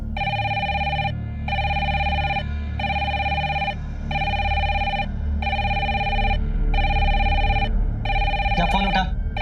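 A telephone ringing in a Hindi crime drama, with six evenly spaced electronic ring bursts separated by short gaps and a low background bed under them, followed by a brief clatter at the end as the handset is lifted.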